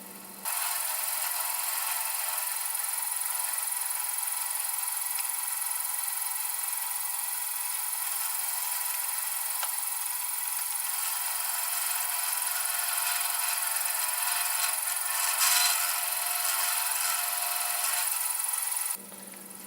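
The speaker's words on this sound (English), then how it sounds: "this is a 3/8 end mill that I'm running through here to cut this groove" A 3/8 end mill cuts a small retaining groove, giving a steady, continuous machining whir and hiss that holds level for nearly twenty seconds with no talk, then stops abruptly.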